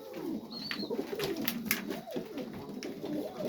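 Pigeons in a loft make soft, low coos, gentle murmuring calls repeating irregularly against a faint hiss of room noise, with a brief high chirp early on.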